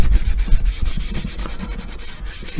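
A cloth rubs wax into wooden furniture in quick, repeated back-and-forth strokes, close and fairly loud, with a dry scuffing texture and no talking.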